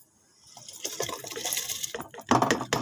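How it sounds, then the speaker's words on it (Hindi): Rice tipped into a pot of boiling water while cooking jaggery rice, a soft rising splash and bubbling that swells, then a louder burst of sloshing and rattling near the end, close up with no talk. "इसके साथ ही हम इसमें डाल देंगे चावल।"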